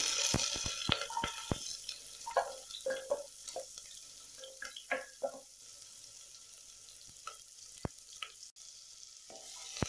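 Chopped onions with green chilli crackle and sizzle in hot oil, with scattered sharp pops and clinks of stirring, no voices.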